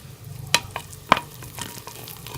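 Greens (saag) are stirred into a fried spice masala in a pan, with two sharp utensil knocks and lighter scraping taps over a low background sizzle.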